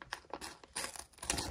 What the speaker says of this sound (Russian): Открываем пакетик.